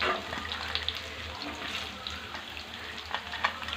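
Dry coconut pieces frying in a pan for a crispy avalakki snack: a steady, close, hissing sizzle with scattered small crackles and pops throughout.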